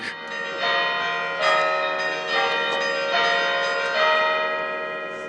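Carillon bells ring out in a steady sequence of bright, resonant tones at Lyon's Festival of Lights, each strike overlapping the lingering ring of the last.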